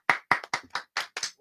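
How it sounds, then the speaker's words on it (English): Hands clap seven times in quick, slightly uneven succession, close and crisp, with short silent gaps between each sharp smack. "Why are we clapping?"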